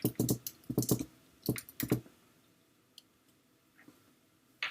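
Quick bursts of clicky computer keyboard typing up close, several fast clusters of keystrokes in the first two seconds, then a quiet pause with a few faint stray clicks.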